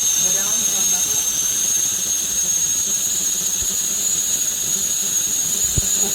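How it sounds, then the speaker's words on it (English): A Caraway stainless steel whistling tea kettle at the boil gives off a steady, loud hiss of steam with a sustained high whistle-like tone running throughout. "I'm trying to catch the steam coming out of it so you can know it's boiling"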